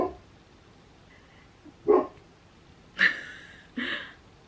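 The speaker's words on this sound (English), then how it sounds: "my dog is barking" A pet dog barks indoors: a few sharp, separate barks spaced about a second apart, fairly close but moderate in level, with quiet room tone between them.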